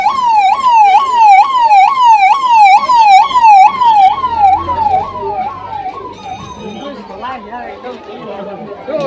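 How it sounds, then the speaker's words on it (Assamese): An ambulance siren wails loudly in a rapid repeating rising-and-falling pattern as it passes close by on a street in Jorhat during a religious gathering, then fades while people chatter in the background. "এইখন এম্বুলেন্সখন আহে ইয়াতো আহি গৈছে এম্বুলেন্স"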